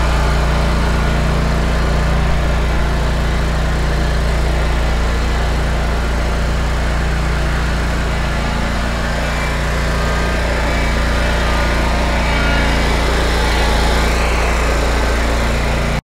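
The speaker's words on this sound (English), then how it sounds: "I'm going to take you along as I mow my backyard here with my grandstand" A Grandstand ride-on lawn mower runs steadily and loudly up close through a backyard mow, its engine drone constant with no pauses and no talking.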